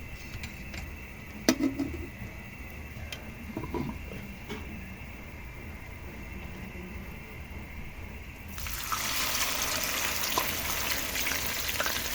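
Oil sizzling and crackling steadily in a pan of frying tilapia, with a few sharp clicks early on, then a louder, brighter hiss as more fish goes in.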